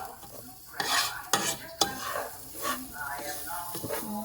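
Rice and garlic being stirred in a hot pan for red rice, with scraping spoon strokes at a steady rhythm over a soft sizzle, close by, ahead of adding marinara sauce.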